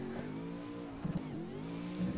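A supercharged V8 drift car in the Assetto Corsa racing game drones steadily at a sustained engine note, with brief rises in pitch and a couple of short revving surges, loud and close with no talking.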